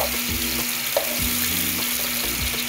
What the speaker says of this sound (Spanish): Aparte vamos a usar una cebolla que vamos a freír en aceite.